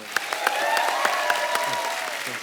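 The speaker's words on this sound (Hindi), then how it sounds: "पहले तो दोनों भाइयों के लिए जोरदार तालियां।" Studio audience clapping loudly and steadily on a comedy talk show set, a dense sustained burst of applause with no talk over it.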